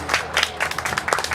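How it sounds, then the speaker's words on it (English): Brief round of applause at a summer camp award ceremony for a recipient, scattered hand claps from a small crowd, moderately loud, no talking. "Give him a round of applause."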